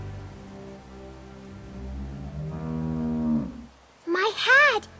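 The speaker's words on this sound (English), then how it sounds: "How do you like that cow, Clem?" A cow moos twice in The Walking Dead video game, first a long low drawn-out call, then a shorter higher bellow after a brief pause, heard close and clear.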